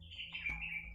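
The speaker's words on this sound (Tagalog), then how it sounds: "Yung ingay nandito yung mga ibon." Birds in trees give a brief, faint chirp, a single thin warbling call heard from a distance over quiet surroundings, with no talking.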